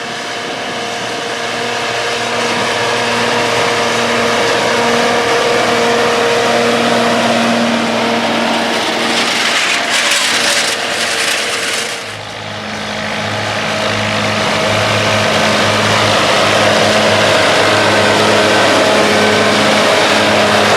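A John Deere 4430 tractor engine running while baling hay, a steady loud diesel drone with constant tonal hum, briefly dipping near the middle before resuming, heard alone with no voices.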